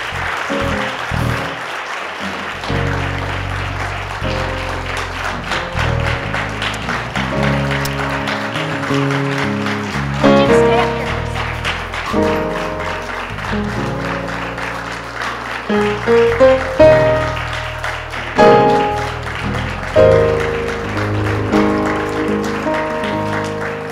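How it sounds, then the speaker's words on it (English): A congregation at a Presbyterian church worship service claps hands in praise, a continuous wash of clapping running under church music with keyboard and bass that grows louder in bursts toward the end. "let's give the Lord a hand clap of praise"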